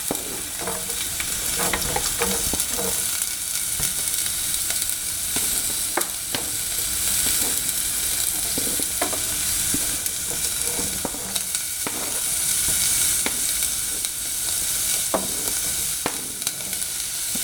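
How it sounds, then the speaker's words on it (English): Chopped vegetables, carrots among them, sizzling in hot oil in a pan over a flame, a dense steady frying hiss punctuated by scrapes and clicks of stirring, close and continuous with no speech. "There we go, a nice sizzle."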